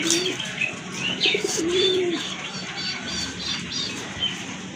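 Fancy pigeons, including white-breasted birds, in a loft coo softly with short rolling calls and a few higher chirps over a steady background murmur, close by.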